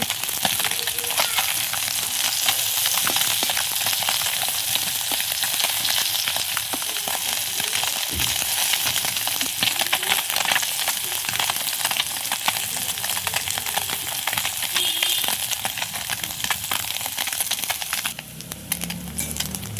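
Taki fish frying in hot oil and turned over in the pan: a loud, dense, crackling sizzle runs nearly unbroken, then thins and shifts briefly near the end.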